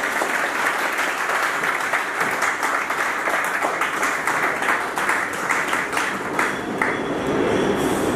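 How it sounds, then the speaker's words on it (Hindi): An audience at a welfare organization's oath-taking program in Samundri applauds steadily, a dense, bright clatter of many hands clapping without pause for several seconds, with no speech over it. "आपकी भरपूर तालियों में executive member of Al Mujahid welfare organisation साबका सर जनाब मता रसूल शाह साहेब।"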